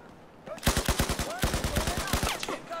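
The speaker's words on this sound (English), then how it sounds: "And I'm getting shot at." Automatic gunfire in Battlefield 4 rattles in rapid bursts of sharp cracks, loud and close, two long volleys separated by a brief pause, with no voices.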